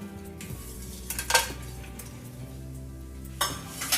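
Whole spices such as cloves and black cardamom dropped into a hot pan, a soft oil sizzle under sharp clinks of a metal spoon against the pan, close and without talk.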